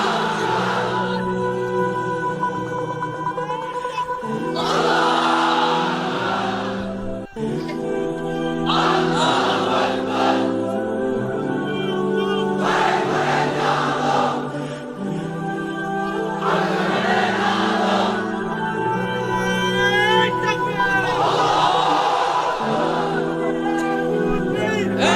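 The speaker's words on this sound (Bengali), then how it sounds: "এবার অবিবাহিতরা দাও লিল্লাহি তাকবীর।" A large crowd of unmarried men at an Islamic sermon gathering shouts a religious takbir chant in loud, sustained unison, their massed voices rising and falling in repeated waves throughout.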